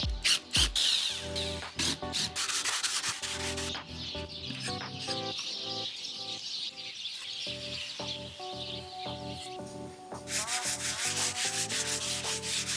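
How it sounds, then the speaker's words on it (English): Hand sanding over a spackle-filled drywall wall, steady rasping strokes of sandpaper rubbing back and forth, close and fairly loud throughout with short pauses between passes. "I'm going to sand this down and fill it in these cracks as well"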